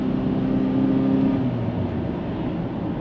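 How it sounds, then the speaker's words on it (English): A 2014 Honda Accord EX-L coupe engine pulling under acceleration, a steady, fairly loud low drone with rising tonal hum, heard from inside the car with no talking. "you can definitely hear the engine and it sounds good"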